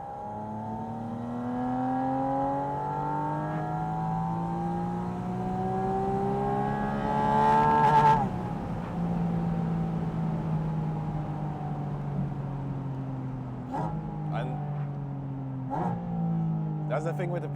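A Porsche 718 Spyder RS with a PDK gearbox revs hard through the gears on an open-top drive, its engine note rising steadily before a sharp downshift with quick blips, and a voice talks over it.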